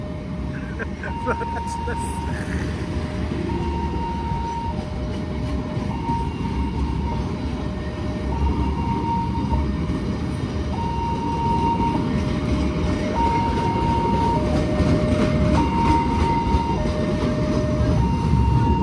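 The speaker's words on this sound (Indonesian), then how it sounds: "kereta api Sri Tanjung masuk stasiun Surabaya Gubeng" The Sri Tanjung passenger train rumbles steadily as it enters Surabaya Gubeng station, Indonesia, with a repeating two-tone chime sounding over the noise and voices faintly in the background.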